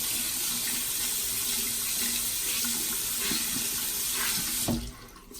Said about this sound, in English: The first thing I always do whenever I wash a sponge is wet it.